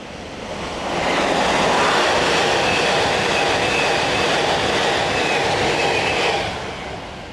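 A loud rushing roar of express trains passing close by on a line near Hanslope, England, swells up, holds steady for several seconds, then fades away.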